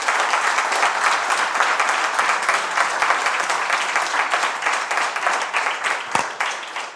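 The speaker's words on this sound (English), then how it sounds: "Please give a very warm round of applause to our panelists." An event audience gives panelists a warm round of applause, steady and dense throughout, tapering slightly toward the end.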